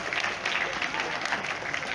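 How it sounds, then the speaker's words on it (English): A burst of dense clapping from a school assembly crowd on Teachers' Day, steady and continuous for a couple of seconds. "A big round of applause for all your teachers."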